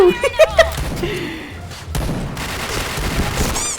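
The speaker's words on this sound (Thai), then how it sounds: "กูโดนยิงเองเลย" Gunfire from a Pindad gun in the Point Blank shooting game, a few sharp shots early on followed by a steadier rush of game noise and effects.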